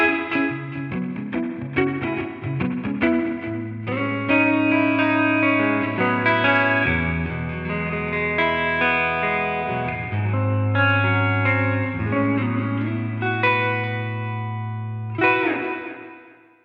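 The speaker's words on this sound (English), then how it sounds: "Again with the reverb, you can crank that up," Electric guitar played through a Line 6 Catalyst amp with heavy, wet reverb, sustained chords and picked notes ringing out and trailing off, with no talking.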